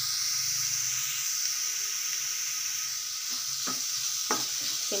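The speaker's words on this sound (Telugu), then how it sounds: "సిమ్లో పెట్టుకొని వేయించుకుందాం. నిదానంగా వేయించుకోవాలండి ఇది." Grated carrot frying gently over a low flame for carrot laddu, giving a steady soft sizzle and hiss throughout, with a few brief scraping stirs near the end.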